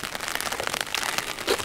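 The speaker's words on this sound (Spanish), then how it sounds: "está lloviendo" Rain comes down on an early morning in La Pitahaya, Jalpa, Zacatecas, a dense steady patter of drops striking surfaces nearby with no voices.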